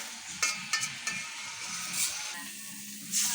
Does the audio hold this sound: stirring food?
yes